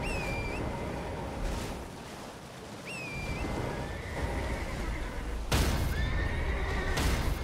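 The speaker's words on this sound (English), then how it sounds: "Hop on your horse." A horse in the video game Elden Ring gives several shrill whinnies over a steady clip-clop of hooves and an ambient rush, the calls recurring every few seconds at close range.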